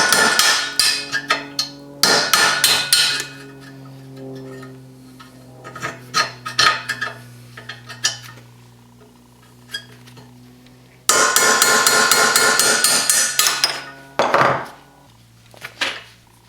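Metal-on-metal hammer blows strike a punch to drive out a rear suspension bushing on a 2015 Wildcat Sport, coming in loud, rapid bursts separated by quieter pauses with occasional lighter taps.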